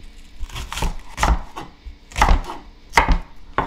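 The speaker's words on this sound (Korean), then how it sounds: "대파를 쫑쫑 썰어야지." Green onion (daepa) is chopped with a knife on a board, giving a run of loud, close, uneven thuds at an irregular pace, with no voices.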